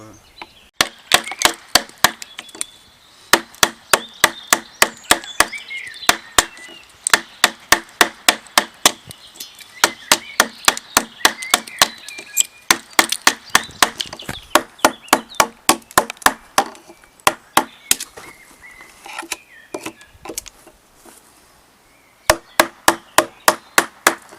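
Rapid sharp blows of a tool chop wood out of a saw-cut notch in a timber beam for a traditional roof truss, close and loud, in quick bursts with short pauses between each series.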